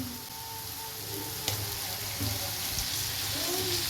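Half a kilo of washed bone-in chicken with turmeric fries in a pan for Chettinad pepper chicken sukka, giving a steady close sizzle with a few small pops and faint background noise.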